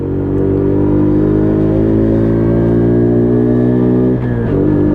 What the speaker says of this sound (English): So the clutch does get a little bit easier to use the more you ride it.